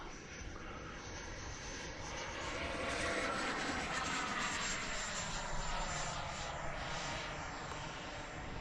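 An FMS F-86 model jet flies overhead with a steady, loud whooshing ducted-fan roar that swells slightly and holds for several seconds, with no voices.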